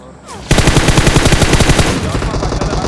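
Rapid automatic gunfire rings out in the mobile game PUBG Mobile, a dense burst of closely spaced shots that starts abruptly and keeps going loud and near to the end.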